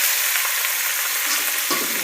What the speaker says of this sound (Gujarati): અને ડુંગળીનો વઘાર કરશું।